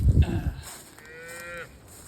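A large 2,000-pound beef cow gives a single drawn-out moo on a ranch, clear and fairly close, with a low rumbling start easing into a steady tonal call before it stops.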